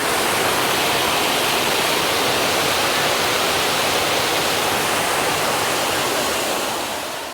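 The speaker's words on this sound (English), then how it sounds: "It's the beautiful waterfall in the national park." A waterfall in a national park in Portugal roars in a loud, unbroken rush of falling water close by, steady throughout and fading slightly at the very end, with no voices.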